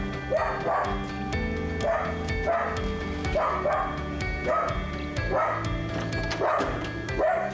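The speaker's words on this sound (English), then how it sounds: "There's the dog again." A dog barks repeatedly in short, evenly spaced bursts, close and loud, with a few higher yips between the barks.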